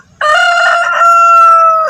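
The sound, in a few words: rooster crowing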